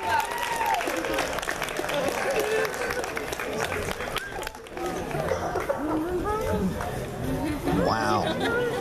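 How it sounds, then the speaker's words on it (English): Crowd applause and cheering at a Fresno Toy-Anime-Comic Con cosplay contest, a dense steady wash of clapping mixed with loud crowd chatter and shouting throughout. "Round of applause,"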